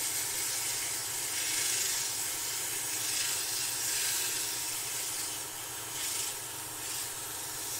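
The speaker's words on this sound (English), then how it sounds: "So we sand this in here." Steady abrasive sanding on a goblet, a continuous close rubbing hiss that holds level for several seconds with slight swells in intensity and no voices.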